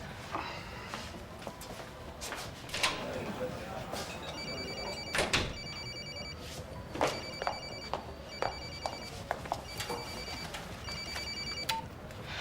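A telephone rings in bursts of repeated electronic trills in a domestic setting, moderately loud over background clatter and a door sound, with people talking nearby.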